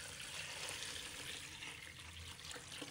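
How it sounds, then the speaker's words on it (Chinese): Clean water pours into a bowl of chicken legs during washing, a soft, steady splashing stream heard close and quiet with no talk. "搓洗后再倒入清水"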